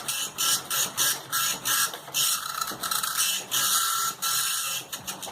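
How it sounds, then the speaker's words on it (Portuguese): A dot matrix printer chattering steadily, its buzzing print-head passes coming in rapid bursts separated by brief pauses as lines advance, close and fairly loud with no voices. "bota um som de impressora matricial"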